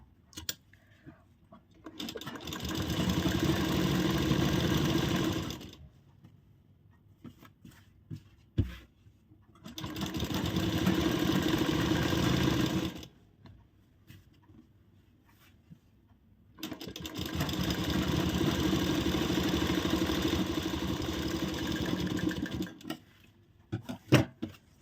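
A sewing machine stitches the side seam of a piped kurti, running in three sustained whirring bursts of several seconds each, separated by quiet pauses with faint handling clicks.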